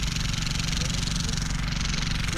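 A neighbours' engine runs steadily at a distance, a continuous low droning hum under outdoor ambience.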